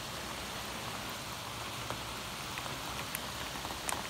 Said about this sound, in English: And pretty sure it's gonna rain all day.